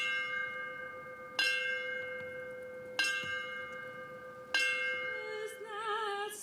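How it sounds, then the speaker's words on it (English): A memorial bell rung by the San Diego Fire Department at a 9/11 remembrance, three clear strikes spaced about one and a half seconds apart, each ringing on with a long humming decay in a quiet setting. "The San Diego Fire Department rang that bell 21 times, once for each of the years that has passed since the attack"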